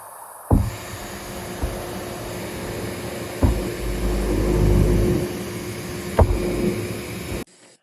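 A table saw fitted with a dado stack runs with a steady close whine and hum while cutting half laps in wood, marked by three sharp thumps and a heavier cutting swell midway before the motor stops.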